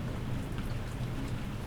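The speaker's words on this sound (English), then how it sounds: "touched by the soft sound of rain against old glass" Slow, cold rain falls steadily against old glass at a lone Victorian mansion, a dense, even patter with a low rumbling wash underneath, constant and close, with no voices.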